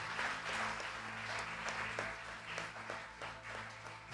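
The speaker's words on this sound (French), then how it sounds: "Nous acclamons Jésus." Applause from a church congregation acclaiming Jesus during a service, a steady wash of many hands clapping that holds for the whole stretch, with low music or hum beneath and a few sharper individual claps standing out.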